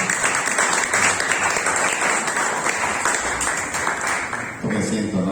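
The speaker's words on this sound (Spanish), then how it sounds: "Den un aplauso." A church congregation applauds during a revival dance service, a full, continuous wash of many hands clapping at steady volume, with a faint tonal sound entering near the end.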